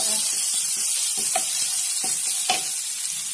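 Finely chopped chilli pieces fry in a hot pan with ginger-garlic paste for achari cauliflower, giving a steady close sizzle with soft stirring scrapes and a few sharper spatters.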